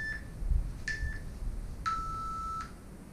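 A seconds timer app sounds countdown beeps: two short tones, then one long sustained tone, clear and fairly loud over a quiet room.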